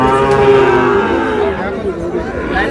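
A Sahiwal bull calf moos loudly and close at a cattle market in Cumilla, one drawn-out low call lasting a couple of seconds, with faint crowd chatter behind.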